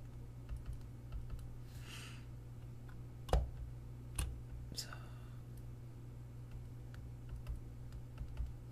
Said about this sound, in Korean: Shift 키 누르고 클릭하는데